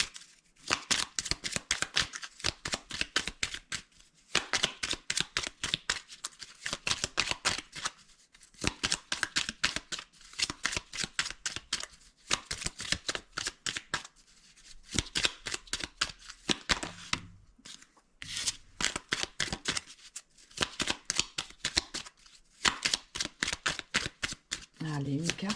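Lenormand oracle cards being shuffled in repeated bursts of crisp, rapid riffling and flicking, loud and close, with short pauses between rounds. A voice talks intermittently over the shuffling.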